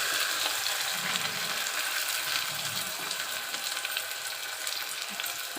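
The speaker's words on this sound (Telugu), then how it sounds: "ఆయిల్ హీట్ అయ్యాక ఇప్పుడు ఆనియన్స్ వేసుకొని ఫ్రై చేసుకుందాం." Onions frying in about four spoons of hot oil in a pressure cooker for mutton biryani, a dense, continuous close sizzle with faint crackles throughout, no voices.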